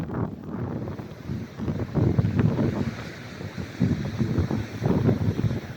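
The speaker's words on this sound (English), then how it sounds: "with the wind blowing the sand" Strong wind gusting across Pfeiffer Beach at Big Sur, blowing sand in a steady roar with surging gusts, close and loud throughout with no talk.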